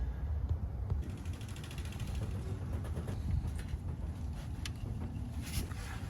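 A ratchet with a socket clicks and creaks as it breaks loose the oil drain plug on a 2015 Nissan Altima S 2.5L four-cylinder, faint mechanical ticks over a steady low hum.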